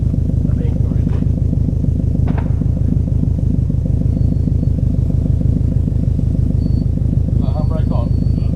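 Subaru Impreza engine holding a steady low rumble with regular pulsing while revving against the applied handbrake, loud and continuous, with brief clicks and faint voices near the end.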